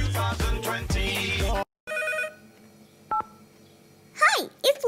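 Cartoon telephone in a Caillou episode ringing and beeping briefly after loud theme music stops, a few short electronic tones followed by rising chirps near the end.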